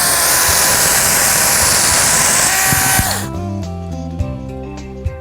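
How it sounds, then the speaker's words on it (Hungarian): A Bosch chainsaw cuts through a tree branch with a loud, harsh roar for about three seconds, then drops to a lower idle hum with a few brief revs. "akkor alulról egy kicsit bemetszem, és ezután teszem fölülre a láncfűrést"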